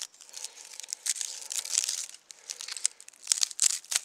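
Dry old man's beard lichen being peeled and torn apart by hand as fire tinder outdoors, giving close, crisp crinkling and tearing crackles in uneven bursts throughout.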